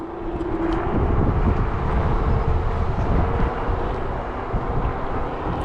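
Strong wind buffeting a camera microphone while riding an Angwatt X1 2.0 electric scooter, a steady roaring rumble throughout with no talking.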